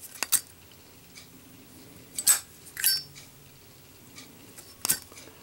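A Zippo lighter with a plain steel insert is flicked open and lit: several sharp metallic clicks and a scratchy strike, close and fairly faint, spaced irregularly over quiet background.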